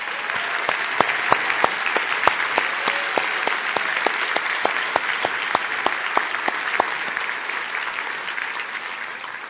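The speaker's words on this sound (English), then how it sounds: "Let's give him a big round of applause" Sustained audience applause for Mayor Emeritus George Pradle at Naperville's State of the City address, a full, even roar of clapping with a few sharp individual claps standing out, slowly tapering toward the end.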